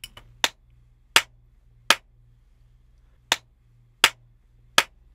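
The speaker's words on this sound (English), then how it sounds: "I will now play the claps with and without the D-Reverb plugin turned on." Six crisp recorded hand claps in two groups of three, each a sharp snap with a short reverb tail, set against a low steady hum.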